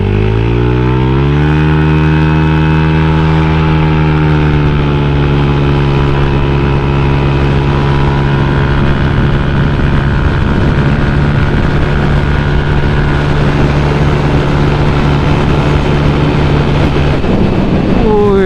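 A Honda Vario automatic scooter is ridden with a steady motor drone whose pitch climbs early on, then holds under wind noise while a rider talks over it.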